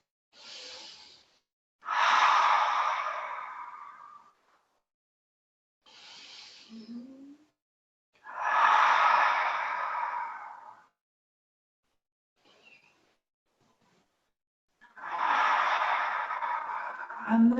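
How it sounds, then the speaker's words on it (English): Slow, breathy exhalations through an open mouth during a menopause yoga session, like fogging up a mirror, come as soft hushed pushes of air, several long breaths separated by quiet pauses, close and unaccompanied. "And as we breathe out through the mouth, imagine you're fogging up a mirror"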